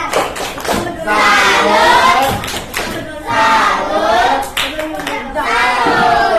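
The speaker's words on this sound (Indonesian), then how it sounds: "Tepuk tangan buat kelompok 1." A classroom group claps together in loud applause for a student group after their presentation, three sustained bursts with brief pauses between, a few cheers rising above the hands.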